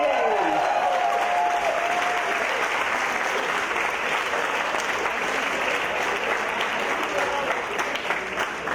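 An audience claps for a team at the 2019 Formula SAE Lincoln awards ceremony, producing dense, sustained applause from a large crowd that holds steady and loud throughout, with a brief voice at the very start.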